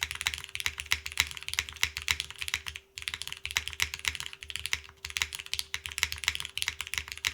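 Steady typing on a Toro 60 mechanical keyboard with Nixie switches, with dense, rapid key clacks running continuously except for a brief pause near the middle, loud and close with no talking.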